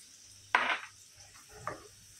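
Garlic hitting hot oil in a pan, a sudden loud sizzling burst that fades over a fraction of a second, followed by a second, softer sizzle and faint stirring, close up with no talk.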